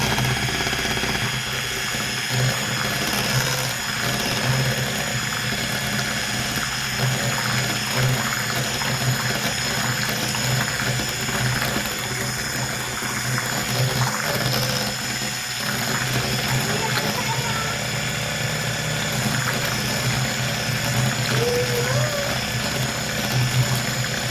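An electric whisk beats cake batter for a birthday cake, a loud, steady motor whir that runs continuously with slight wobbles in pitch and faint rattling as the beaters churn.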